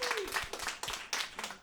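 Audience applause at a St. Louis stand-up comedy show, a brief burst of clapping from the crowd with a voice faintly underneath.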